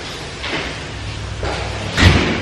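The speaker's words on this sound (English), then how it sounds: "Close the door." A door in a family house being viewed closes with a few soft sliding, knocking sounds, ending in a firmer thud over steady room noise.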